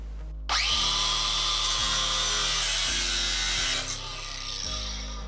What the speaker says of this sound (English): I have an angle grinder, so I'm going to do it this way, and it'll take a lot less time, just a lot more noise and a lot more sparks.